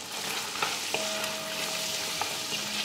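Spices frying in a pan with green chilies, coriander powder, red chili powder and salt, stirred in: a steady close sizzle with occasional light scrapes and clicks of the spoon, no talk.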